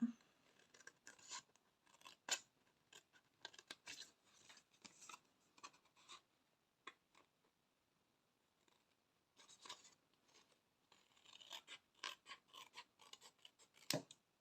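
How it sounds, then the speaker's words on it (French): Scissors snipping through paper along the edge of a triangle, a quiet, intermittent series of sharp crisp cuts with brief pauses, close up and alone. "je vais venir couper tout le long de mon triangle."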